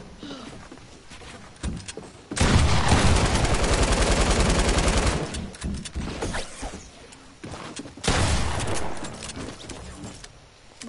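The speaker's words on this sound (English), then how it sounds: "Are you shooting at me?" Rapid automatic gunfire from a video game, loud sustained bursts around a few seconds each, separated by quieter stretches with scattered clicks and faint talk.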